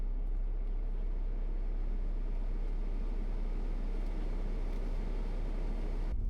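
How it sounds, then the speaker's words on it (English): Steady low rumble and broadband road noise from inside a moving car, recorded on a DJI Action 5 Pro's built-in audio, constant and unbroken, with no talking. "this is kind of what it would sound like in a car with no microphone"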